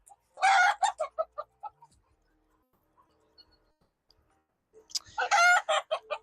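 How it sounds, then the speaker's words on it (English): Chickens cluck loudly while guinea fowl chase them on a farm, with two bursts of squawking and clucking at the start and end separated by near silence. "The guineas are chasing out"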